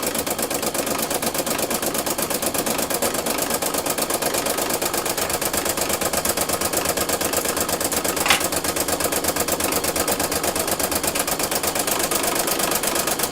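An embroidery machine runs the placement stitch for an in-the-hoop coloring book page on felt and clear vinyl, giving a fast, even mechanical chatter of needle strokes that holds steady and close for the whole stretch.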